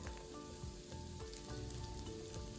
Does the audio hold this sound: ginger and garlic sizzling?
yes